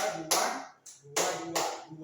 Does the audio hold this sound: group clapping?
yes